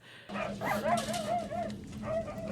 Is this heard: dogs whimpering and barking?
yes